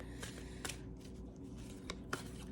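An oracle card deck is shuffled by hand in a quiet room, giving a few soft, quick riffling bursts and light card taps.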